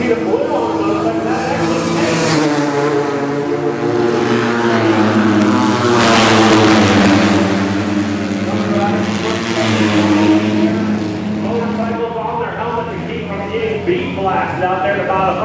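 AMA Super Single flat track racing motorcycles blast down the straightaway at a county fair, engines roaring loud and sustained as they pass, pitch rising and falling, with an announcer talking over them.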